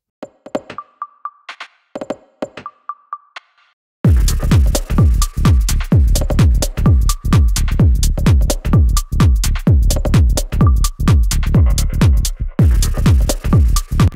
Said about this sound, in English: let's try to add a little bit of reverb on the bus